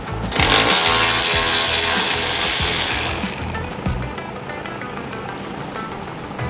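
A power tool removing a bolt from the passenger-side fender of a 2018 Toyota RAV4 whirs loudly with a buzzing, rattling drive for about three seconds, then cuts out, leaving quieter clicks and background noise.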